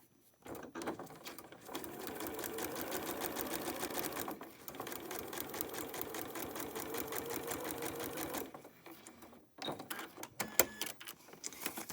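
A sewing machine stitches a foundation paper pieced quilt block in two long steady runs of rapid rhythmic clatter, with brief pauses and a few handling clicks near the end, close and fairly quiet.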